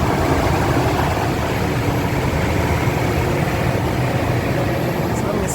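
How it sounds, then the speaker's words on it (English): A Toyota 1GR engine with a persistent misfire idles steadily just after being started, giving a constant low rumble with broadband hum and no clear variation across the few seconds. "Now we're about to start the car."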